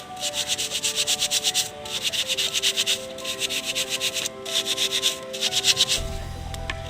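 A dusty Wagon R car AC filter is rubbed by hand to loosen dust, giving a steady scratchy rubbing in repeated bursts with short pauses, close and fairly loud, no talking.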